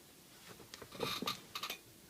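Colored pencil dragged on its side across paper while shading a drawing of an eye, giving faint, soft scratchy strokes in a few short bursts in a quiet room.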